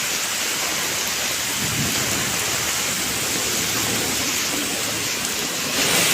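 Heavy monsoon downpour in Mumbai roars as a loud, continuous wash of rain, with deep thunder rumbling beneath it and swelling again near the end.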